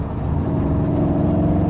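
2018 Volkswagen Golf R Mk7.5 engine running in race mode, a steady low droning hum with a slight rise, heard close and alone.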